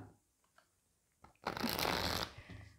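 Tarot cards shuffled by hand in a single dense burst of riffling and flapping, close and fairly loud, lasting about a second, with faint handling noises before and after.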